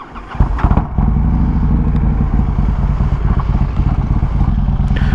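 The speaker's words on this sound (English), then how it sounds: "So one thing you will notice with this bike is it not being dyno tuned, it stutters on the bottom pretty bad." A Harley-Davidson Screamin' Eagle 120R Street Glide Special, not dyno tuned and stuttering at the bottom end, starts with a clatter then settles into a loud, close, lumpy idle with an uneven, choppy rhythm.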